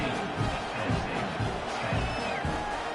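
Football stadium crowd at a Penn State game after a score, a distant, diffuse roar of many voices with soft swells, fairly faint and continuous.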